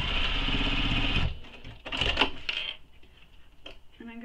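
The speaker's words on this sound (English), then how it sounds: "I'm going to sew second row stitching on this side." A sewing machine stitches a second row along the side of a nylon bag, a loud steady mechanical whir for about a second before stopping, followed by short bursts of clicks and handling noise.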